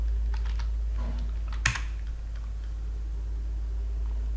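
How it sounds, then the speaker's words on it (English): Someone types a password on a computer keyboard in a short burst of soft, quick key taps with one louder keystroke, over a steady low hum. There is no talking. "So I'm going to input the username and the password."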